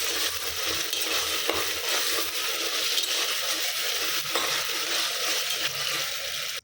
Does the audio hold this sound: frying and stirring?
yes